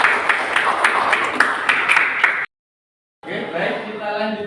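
A classroom group claps for a student named Risan during a teaching lesson, a short burst of rhythmic clapping that cuts to silence before a voice begins talking.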